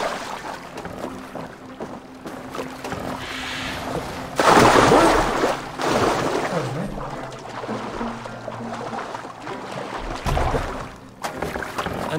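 A boat is rowed through water in Assassin's Creed Valhalla, with oars splashing in a steady wash that surges louder partway through and keeps going in the background.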